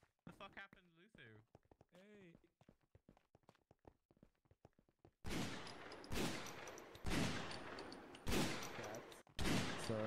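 Rapid bursts of gunfire in a Minecraft game, loud volleys following a stretch of quieter footsteps and game sounds.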